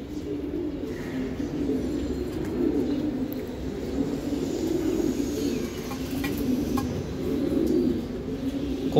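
Khaki pigeons, a pair bred from silver khaki and milk khaki birds, coo steadily and close by in overlapping low rolling calls that run through the whole stretch with no voices.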